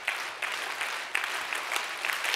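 A church congregation claps in a rapid, sustained volley, the many hands blending into a dense patter with periodic louder accents.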